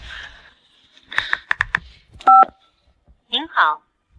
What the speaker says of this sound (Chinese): 我现在就给林院士打电话